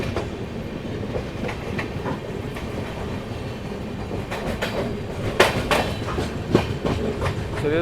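The 12314 New Delhi–Sealdah Rajdhani Express passing close by, a loud continuous rumble of rolling coaches with rhythmic clickety-clack wheel beats and sharp rail clanks growing toward the end.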